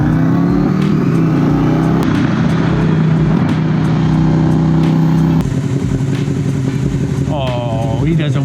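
Motorcycles, a Yamaha Tracer 900 and a Suzuki Gladius 650, drone loudly and continuously while riding through Boston city streets in November, the engine note shifting with throttle changes and a brief horn-like tone near the end.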